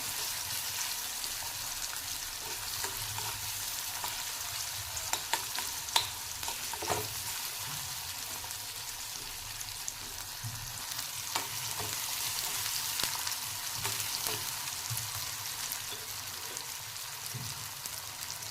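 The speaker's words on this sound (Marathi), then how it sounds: "कांदा थोडासा परतून घ्यायचा आहे थोडासा ट्रान्सपरंट करायचा आहे" Onion sautéing in a pan for potato bhurji, a steady close sizzle with intermittent scraping stir strokes throughout, no talking.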